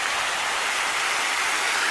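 Water splashing in an outdoor fountain, a dense steady hiss of falling spray heard close and fairly loud, continuous and alone.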